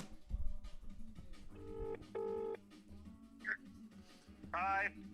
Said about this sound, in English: Right, we're ringing, baby.